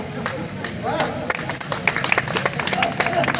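An audience claps at a Hindi poetry recital held at the Mahavir Ji flag fair in Sandila, with scattered hand claps running under a loud speaking voice.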